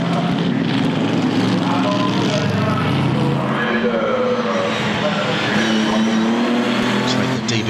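An Aston Martin DB4 GT race car at the 2010 Le Mans Classic roars past amid other racing cars, its loud engine note sustained throughout, with commentary voices running over the noise.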